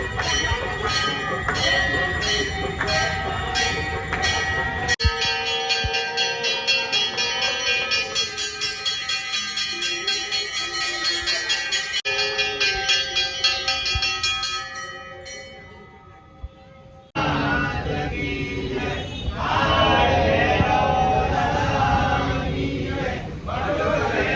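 Bells ring rapidly and continuously, loud and bright, during an aarti at a Ganesh festival pandal in Surat. The ringing drops off briefly partway through, then a busier, crowd-filled stretch follows.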